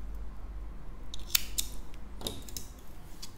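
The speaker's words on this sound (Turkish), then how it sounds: "İpimi kesiyorum." Scissors snip through yarn partway through crocheting a bag, giving two or three crisp, close metallic clicks over a quiet room with a low hum.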